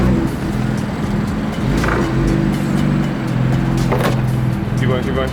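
A 2019 Ford F-250 pickup rumbles up onto a ramp, its engine a deep, steady drone with brief surges of power and a few knocks and clunks, while voices speak nearby.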